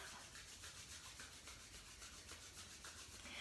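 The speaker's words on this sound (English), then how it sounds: "Bring your palms together, rub them together, create a little bit of warmth." Palms rubbing briskly together to make warmth during a yoga exercise, a steady soft rhythmic swishing friction close up and alone, with no talking.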